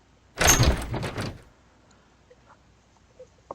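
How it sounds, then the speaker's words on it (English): A cabin door in the camp of the video game Everlasting Summer is swung open, heard as one loud, close whooshing sweep lasting about a second, followed by near silence with faint small clicks. "I swung open the door to the camp leader's cabin and rushed inside"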